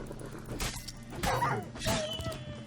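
Dogs being struck in combat in The Witcher 3, with a few sharp impact bursts and yelping, whimpering cries spread across a short, busy stretch of game sound.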